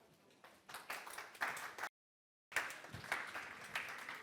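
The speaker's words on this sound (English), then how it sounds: "Give him a round of applause." Conference audience applause greets a speaker taking the stage at a blockchain and carbon-credit event, a moderate patter of clapping that breaks off briefly to silence and then resumes.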